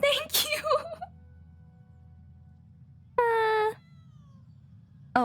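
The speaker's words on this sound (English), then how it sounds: "Oh, my brain just heard a meow," A cat meows, a short high cry near the start and a second sustained meow a few seconds later, close and clear over a quiet background.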